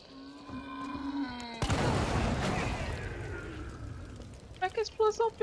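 An explosion in a horror video game: a sudden loud boom bursts in after tonal game sounds, rumbling and slowly fading, followed by short clipped voice-like game sounds at the end.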